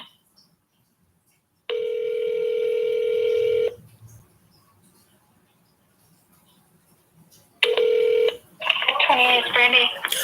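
Telephone transfer tones on a hospital operator line: a steady electronic dialing tone holds for about two seconds, falls silent, then returns briefly before a burst of ringing or hold-line sound at the end.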